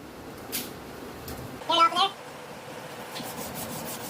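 Fine-grit sandpaper rubbing over an old, seized trailer bearing: soft, faint scratching strokes at low level, with a brief voice-like burst partway through.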